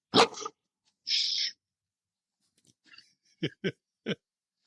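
A giant schnauzer gives several short, sharp barks at close range, with a few isolated bursts separated by silence.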